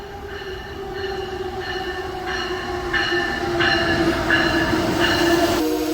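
An Amtrak train arriving at a station, a steady close rumble of rolling wheels with a sustained high squeal and repeating clicks as the cars slow, growing louder over the seconds.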